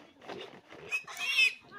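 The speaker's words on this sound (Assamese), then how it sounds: "গাহৰিবোৰ কিয় ধৰি আছোঁ চাই থাকক" Pigs grunt and squeal while being held, a few close, rough bursts in under two seconds with one sharper squeal near the end.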